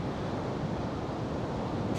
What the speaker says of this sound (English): You can see I'm struggling with the wind here.